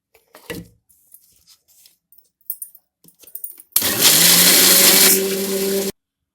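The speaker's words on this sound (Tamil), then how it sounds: "இப்போ நம்ம இதை அரைச்சிக்கலாம்." A few soft clicks and taps, then a mixer grinder grinding chili and sago roars loudly for about two seconds at a steady high whir before cutting off abruptly.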